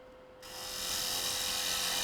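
A wood lathe turns a workpiece while a tool cuts a tenon, starting abruptly as a bright, sustained shearing hiss that grows slightly louder and holds steady, close up.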